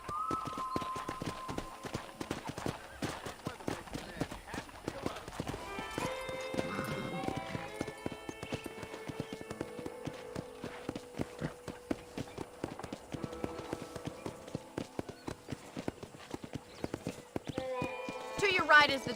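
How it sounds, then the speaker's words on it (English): Horse hooves clip-clop steadily as a rider trots across a ranch in the video game Red Dead Redemption, with a whinny, background music and a voice talking over the rhythmic hoofbeats. "let's see if you can still ride a horse"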